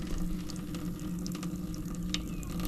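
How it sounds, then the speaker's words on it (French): Water runs steadily from a free tap at a campervan service point, a constant broadband rush with no pauses through the whole stretch. "Je suis en train de gâcher de l'eau, je sais pas quand ça va s'arrêter"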